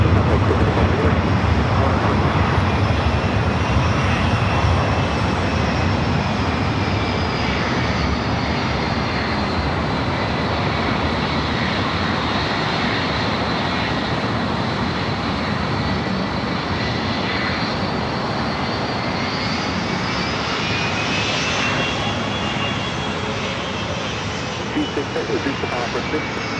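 Airliner engines roaring at Los Angeles LAX airport near runway 24 left, a loud sustained drone with a slowly shifting whine across the whole stretch, with radio voices talking over it.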